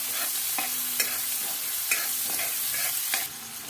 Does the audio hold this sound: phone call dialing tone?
no